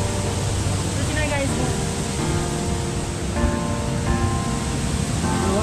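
Rushing water at a cold-water dam near Sundarijal waterfall, a dense, constant roar filling the scene, with voices talking over it.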